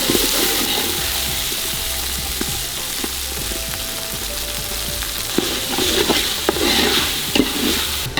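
Home-ground ginger garlic paste with masala sizzles and fries loudly in a pan for village-style country chicken, a dense continuous crackle with occasional stirring scrapes and pops close by.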